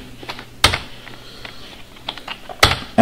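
Fingers typing a PowerShell command on a computer keyboard: scattered soft key taps with a few sharper, louder clacks, close and clear with no talking.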